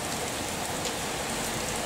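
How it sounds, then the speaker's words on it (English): Heavy rain pours down outdoors in a suburban garden in July, a dense, loud, unbroken hiss of drops hitting surfaces with no voices. "It's tipping it down"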